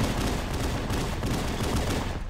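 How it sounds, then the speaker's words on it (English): Several pistols chain-fire nonstop in the Halo game on The Silent Cartographer mission, a dense, loud, continuous crackle of overlapping shots with no gaps and no voices. "There's a bunch of pistols going off. They're chain firing for some reason."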